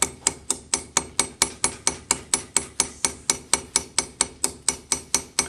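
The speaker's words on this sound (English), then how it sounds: "I'm going to hammer this." Sharp metallic hammer strikes ring out as a flush rivet is hammered, a fast, steady rhythm of about twenty evenly spaced blows close by, with no voices.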